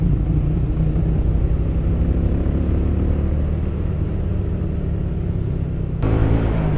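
A Hino truck speeds past on a road with a steady, heavy engine rumble and road noise, followed by a sudden sharp change near the end as it goes by.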